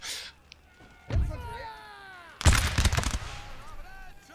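Two loud musket volleys ring out in the video game Empire: Total War, each a sharp, rolling crack followed by a fading tail. A voice talks in the quiet stretches between the volleys.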